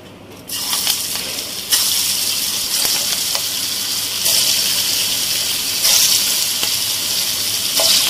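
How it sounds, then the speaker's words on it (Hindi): Chana dal kofta balls drop into hot oil, and a loud, close, continuous frying hiss swells in stages as more balls go in, with occasional small clinks and no speech. "अब हम इसको फ्राई करेंगे ऑयल के अंदर"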